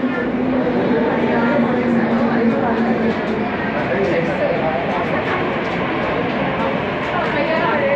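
Steady rumbling and whirring of a Hong Kong Tuen Ma Line metro train running, loud and continuous, with a faint voice talking underneath.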